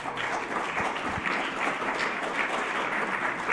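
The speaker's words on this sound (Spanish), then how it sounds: "Un aplauso," A conference audience at an academic panel on integral ecology gives a steady, dense round of applause that runs without a break from start to finish, close and fairly loud.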